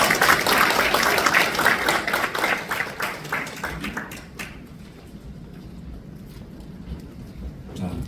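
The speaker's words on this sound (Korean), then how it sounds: "이 자랑스럽고 역사적인 순간을 여러분 뜨거운 박수로 맞이해 주시기 바랍니다" Warm applause fills a small meeting room at a certificate handover ceremony, dense clapping that thins out and fades to quiet room murmur after about four seconds.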